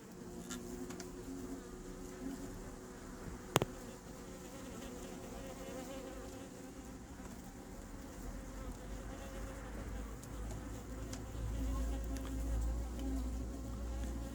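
A hornet buzzes near beehive trap bottles in an apiary, a faint steady insect drone with one sharp click, no speech over it.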